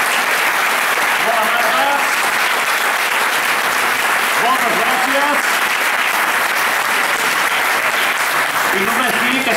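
An audience at a summer concert gives a steady, full round of clapping that holds evenly throughout, while a voice speaks briefly over it.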